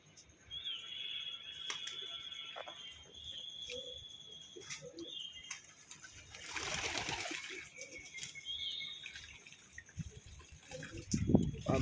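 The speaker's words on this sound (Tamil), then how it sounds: "எல்லா புறாவுமே தண்ணியில் இறங்கிருச்சு பாருங்கள்" Pigeons bathing in a tray of plain water splash and flap their wings in a brief flurry, faint and somewhat distant among soft outdoor ambience and occasional bird sounds.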